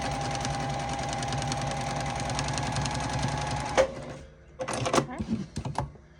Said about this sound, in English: So we're just going to sew right along, always back stitch, and we're just going to sew right along there.